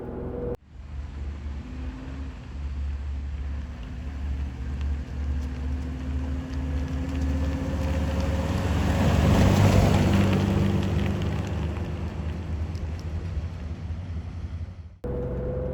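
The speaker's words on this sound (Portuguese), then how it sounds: "olha o som do V6" A second-generation two-door Mitsubishi Pajero with a V6 engine runs steadily with a low, throaty drone, swelling slightly midway, mixed with wind rush and no talking.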